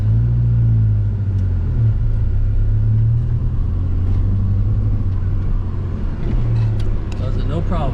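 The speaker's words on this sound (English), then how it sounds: "The truck wouldn't even make this truck wouldn't even make it up that hill, so let's go ahead and try it out, see how good it does." A 1997 Ford Ranger pickup, fresh from a brake booster and master cylinder replacement, drives up a hill with a steady, loud low engine rumble and road noise throughout, the load rising slightly near the end.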